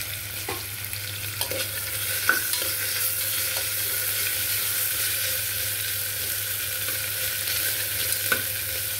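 Ginger garlic paste frying in a pan for a coconut rice dish, a soft continuous sizzle under a low steady hum, with a few scattered clinks of stirring and no talking.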